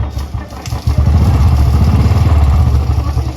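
Royal Enfield Thunderbird 350 single-cylinder motorcycle cranks and fires up, settling into a loud, close, steady thumping idle with a rhythmic low pulse and mechanical clatter.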